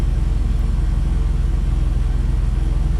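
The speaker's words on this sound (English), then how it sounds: "I already know that this SUV Nissan is probably what we want to be working with." A Nissan SUV engine from the Krotos Studio sound-effects library runs steadily, a close, loud, continuous low rumble like a vehicle idling, with no voices over it.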